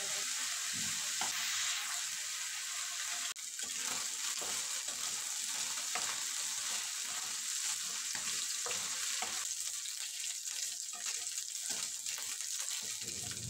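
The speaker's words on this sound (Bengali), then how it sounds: "উল্টে পাল্টে চিকেনগুলো ভেজে নেব" Boneless chicken pieces frying in a pan for spicy chicken pasta, with a steady close sizzle and occasional scrapes and clinks as they are turned and stirred.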